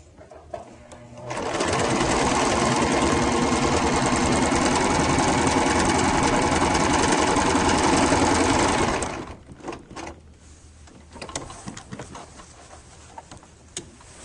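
A sewing machine stitches down the middle of a scarf with batting inside, a steady fast motor whir and needle patter running for about seven seconds before stopping, followed by soft handling clicks and rustles.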